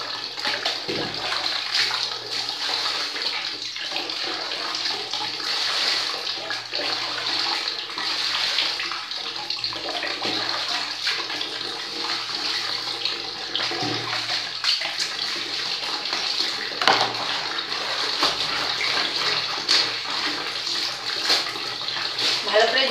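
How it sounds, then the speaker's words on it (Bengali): Bedsheet and nightie being rinsed by hand in water, with steady splashing and sloshing throughout, close and continuous, and a voice heard at moments. "তারপরে জল দিয়ে ধুয়ে নিলাম"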